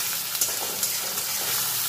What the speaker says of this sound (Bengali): পেঁয়াজ কুচিটা একটু হালকা করে প্রথমে ভাজবো।